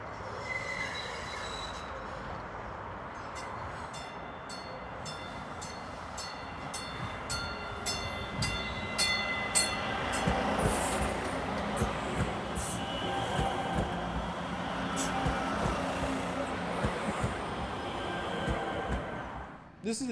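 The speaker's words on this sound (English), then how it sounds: "And there's my train." A light rail train passes near Baltimore with high, repeated wheel squeals over a rumbling rail clatter, fairly close and steady throughout, with no talking.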